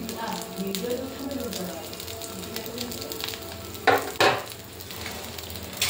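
Ghee sizzles steadily in a hot pan under a pesarattu (green gram dosa), a continuous crackling fry with two brief louder spatters near the end.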